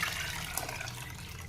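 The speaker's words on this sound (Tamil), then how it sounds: "ரெண்டு டம்ளர் நம்ம தண்ணி சேர்த்துக்கலாம்" Water pours steadily into a pot for mutton biryani, a continuous splashing gush heard up close.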